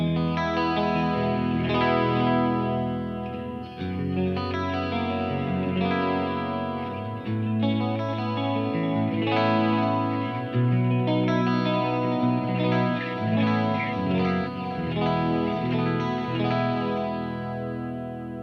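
An electric guitar played through a Peavey Invective 120 amp on its clean channel rings out warm and full, with strummed chords and picked notes shimmering under chorus-like modulation, heard alone without talk.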